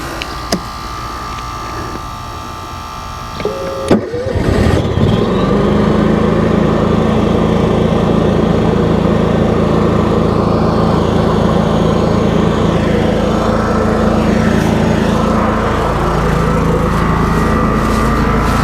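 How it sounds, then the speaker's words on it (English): A Honda EU7000is generator starts with a brief rattle and then settles into a loud, steady engine drone that runs unbroken, close by, with no talking. "let's go ahead and fire up the generator"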